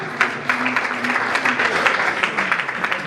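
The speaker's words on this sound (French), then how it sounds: "Merci, on applaudit très fort." An audience applauds at an evening awards gala, loud sustained clapping with sharp individual claps standing out, and faint voices or cheers sit underneath for about three seconds.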